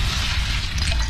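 Cannon impact in the strategy game Castle Wars, a short heavy low boom with a crashing burst, loud and close.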